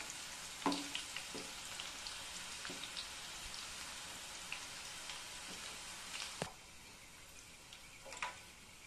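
Onions frying in oil for a cauliflower Gobi 65 snack topping, a faint, steady crackling sizzle with a few sharper pops and spatters scattered through, no voices.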